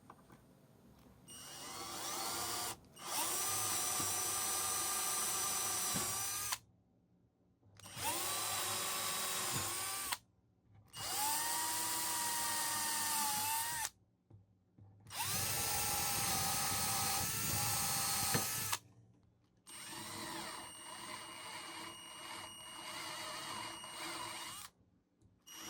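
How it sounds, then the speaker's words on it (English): A power drill bores holes in a Danelectro Telecaster-style guitar body, with five long whining bursts of several seconds each separated by short silences, loud and close with no talk. "then drill as straight as possible."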